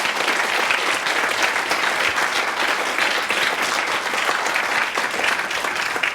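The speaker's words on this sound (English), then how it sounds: "please give them another round of applause" Sustained applause from a conference audience during closing remarks, a thick, even roar of many people clapping that holds steady and loud throughout, with no speech above it.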